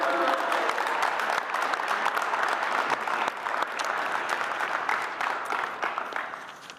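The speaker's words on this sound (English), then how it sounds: "Give Michael a round of applause" A room full of people at a high school athletic signing day gives a sustained round of applause, steady and full throughout before tapering slightly at the end.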